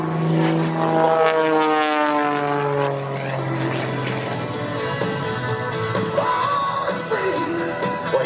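A Pitts S-2S aerobatic biplane roars past at an airshow, its propeller engine drone sliding steadily downward in pitch as it passes, loud and continuous.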